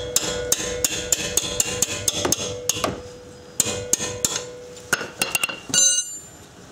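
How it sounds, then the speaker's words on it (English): Hammer taps on a late-model Subaru front brake caliper bolt during a wheel bearing and hub job: about a dozen sharp, close metallic strikes in an uneven rhythm with short pauses, ending in a brief ringing clatter. "I'll just tap it with a hammer and we'll back this off."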